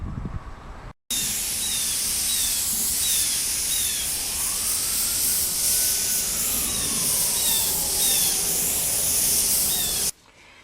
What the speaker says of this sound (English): The advantage is the airbrush really lays the paint down thin and flat.